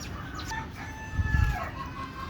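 Backyard chickens raised in tubs cluck close by while a rooster crows, a rising-and-falling call over soft low scratching and shuffling, with no talking.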